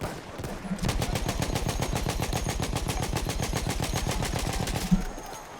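Sustained rapid automatic gunfire from Battlefield 1 rattles close and loud for about four seconds in an even, fast rhythm, ending with a single sharper shot, with no talk.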